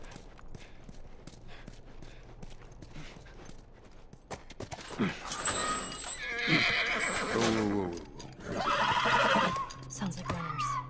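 A horse whinnies and snorts in The Last of Us video game, with soft clip-clop hooves and background game ambience; quiet at first, then two loud drawn-out neighs in the second half, close by.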